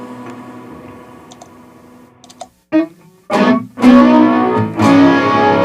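Electric guitar runs through an effects pedal preset, starting as quiet sustained tones, then a few sharp clicks and a gap before loud, bright, heavily processed strums ring out up close.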